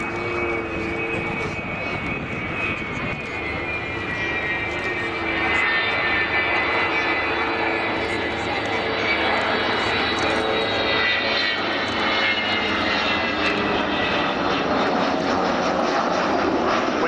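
A loud, sustained roar of Avro Vulcan XH558 jet bomber engines at RAF Cosford, swelling slightly as power rises, with a rushing whine that fills the air.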